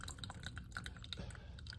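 Water trickling from a homemade water-collecting device called the Water Master 3000 through a small tube into a cup, heard as faint, close dripping and trickling over a few seconds.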